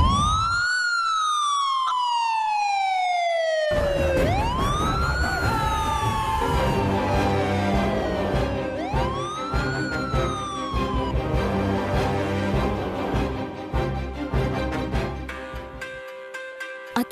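An ambulance siren wails in long rising and falling sweeps, loud and fairly close, with repeated tones that overlap as they continue.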